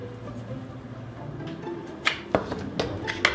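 Sausage roll filling of meat, sweet chilli sauce and breadcrumbs is mixed by hand in a bowl. Soft squishing gives way to a few sharper slaps and taps toward the end, with no talk.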